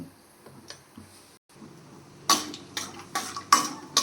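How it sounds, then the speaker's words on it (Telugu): Peanuts being fried in a pan for upma, heard as a few quiet taps followed by sharp metallic scrapes and clinks of a spoon against the pan in irregular bursts, close up with no talking. "పల్లీలు వేగేదాకా 2 minutes ఫ్రై చేసుకోవాలి."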